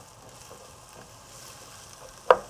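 A soft, steady sizzle of vegetables sautéing in a pan for Persian barley soup, quiet and close, with a brief sharp clatter near the end.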